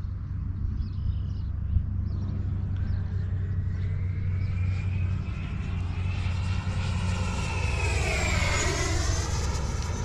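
An E-flite 90mm Viper RC jet roars past at full throttle, its ducted-fan whine loud and steady throughout, rising and sweeping in pitch near the end as it banks overhead.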